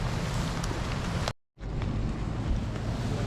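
Strong outdoor wind buffets the microphone during a bicycle trip, a loud continuous roar broken by a brief moment of silence, with no talking heard.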